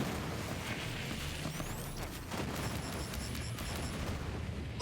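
Gunfire from a Torgue weapon in the video game Borderlands 3 crackles and booms in a dense, continuous barrage with explosive bursts, heard alone without talk.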